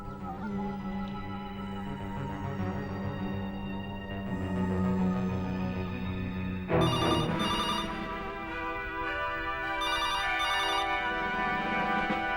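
A telephone rings in repeated electronic bursts, steady and moderately loud, with the ring pattern shifting partway through into brighter, higher trilling tones.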